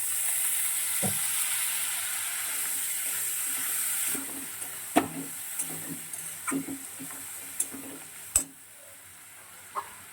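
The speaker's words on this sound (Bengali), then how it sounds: "এখন সামান্য একটু জল দিয়ে দিচ্ছি।" A little water goes into a hot pan of Tangra fish curry. A bright, hissing sizzle fills the first seconds, then it settles into a softer simmer with scattered close clinks of stirring, and no voice.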